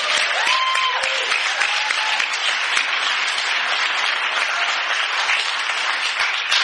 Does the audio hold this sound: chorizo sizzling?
no